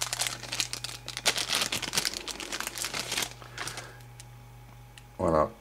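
Plastic packaging crinkles and rustles up close as a small lavalier microphone is unwrapped, with a busy burst of handling noise that fades before a short spoken word at the end.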